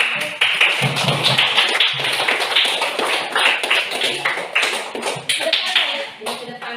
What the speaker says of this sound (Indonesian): dengan ucapan aplaus ya, berikan aplaus dulu.